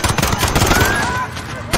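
Call of Duty Modern Warfare gunfire on a London street, a rapid burst of close, loud automatic shots crackling against shouting voices and chaotic background noise.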